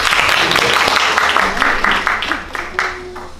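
Audience applause at the Bellavita Monday concert in a Hearts Art Hall, a dense wash of clapping filling the whole stretch at steady volume before tapering slightly near the end, with voices mixed in.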